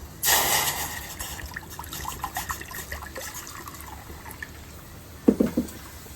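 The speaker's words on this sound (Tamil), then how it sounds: "ஒரு பாத்திரத்தில் தண்ணி ஊற்றிக்கலாம்" Water splashes and trickles steadily into a cooking pot, with a brief louder slosh near the end and no voices.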